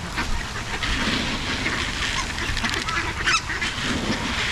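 Red-breasted geese at a zoo honk and chatter in a busy flock, overlapping calls close by against a noisy background.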